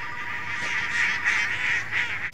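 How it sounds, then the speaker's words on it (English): Ducks in a scene from The Sopranos honk and quack repeatedly, a cluster of close nasal calls over a few seconds with no voices. "the ducks, of course"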